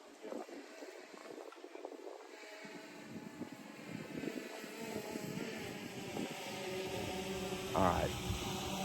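A model aircraft flies straight and level at a distance, its faint steady engine drone humming on with a soft rising whine, heard over quiet outdoor ambience.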